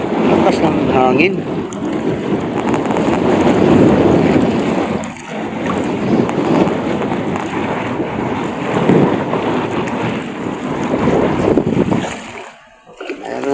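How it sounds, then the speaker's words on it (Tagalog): Strong wind buffets the microphone on a small fishing boat at sea, a heavy roaring rush mixed with waves and water noise, rising and falling throughout while someone speaks over it. "Lakas ng hangin."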